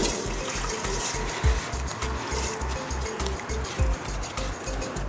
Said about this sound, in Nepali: यो चामललाई चाहिँ हामी कुकरमा राखेर